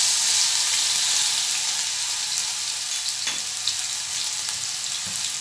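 Green chili paste fries in hot oil in a pan, giving a steady, bright sizzle with soft crackles and a few stirring clicks, close and continuous with no voices.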